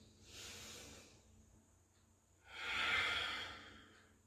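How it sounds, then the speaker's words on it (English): Deep yoga breaths, close and clear: a slow airy inhale followed after a pause by a longer, stronger exhale, with no talking over them. "Big breath in as you lift your arms all the way up. Exhale to bring the hands to heart."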